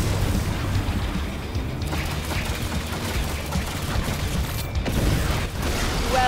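An unstable rift being destroyed in OMD! Unchained: a dense, rumbling wash of booms and crackling bursts continues throughout, with a sharper impact near the end, and no talk.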